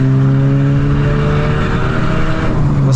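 A Honda Civic engine revving hard through an exhaust diffuser, a loud sustained droning roar with steady harmonic tones held close throughout.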